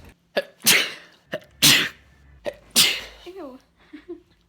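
A person sneezes several times in quick succession, sharp loud bursts close to the microphone, followed by a few short voiced sounds.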